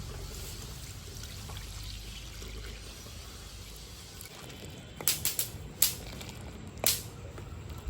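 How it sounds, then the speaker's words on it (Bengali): A litre of milk is poured into a pot of boiled green mango for raw mango payesh. A steady soft pouring hiss runs for several seconds, followed by a few sharp clinks of the pot, with no talk. "ঢেলে নিচ্ছি এক লিটার দুধ আছে দিয়ে দিচ্ছি"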